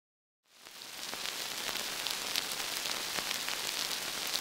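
Realistic rain patch synthesized on an ARP 2600 V, a steady hiss of filtered noise dotted with irregular crackling droplet ticks, fading in quickly and then holding at an even level with no voices.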